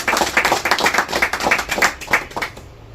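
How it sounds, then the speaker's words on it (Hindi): A gathering at a family organisation's swearing-in ceremony welcomes Mahesh Goyal with close, loud rhythmic clapping, individual claps distinct and evenly paced before trailing off at the end. "जोरदार तालियों से स्वागत महेश गोयल जी का"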